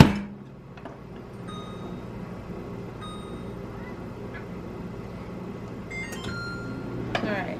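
A microwave oven hums steadily with a low mechanical drone, punctuated near the end by a few faint clicks and a short chirp.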